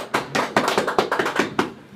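Sparse handclaps from a small group at a birthday celebration with mariachi, several separate bursts of clapping in an uneven rhythm, close and moderately loud, with no voices.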